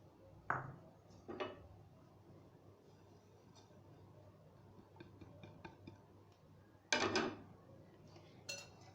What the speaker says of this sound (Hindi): सबसे पहले हम एक बाउल में ड्राई इंग्रेडिएंट्स को मिक्स कर लेंगे